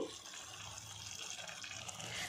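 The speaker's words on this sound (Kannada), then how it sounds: "ಜಾರ್ನಲ್ಲಿ ಸ್ವಲ್ಪ ನೀರು ಹಾಕ್ಬಿಟ್ಟು ಹಾಕ್ತಾಯಿದ್ದೀನಿ." Water pours steadily into a mixer jar nearby, a continuous splashing gush that runs without a break.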